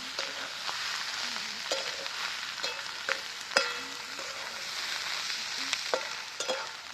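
Fried onion and tomato stirred together in a pan with a spoon or spatula, steady close frying hiss under repeated sharp scrapes and clinks of the utensil against the pan, with no talking.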